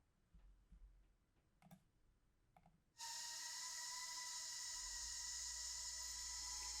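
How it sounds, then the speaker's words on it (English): A few faint clicks, then a loud, steady high-pitched buzz of a small quadcopter drone's whirring rotors starts suddenly and holds without pause. "you can hear the drone buzzing in the background for this"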